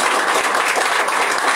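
Congregation applauds during a church service, dense continuous clapping from many people, fairly loud and even throughout.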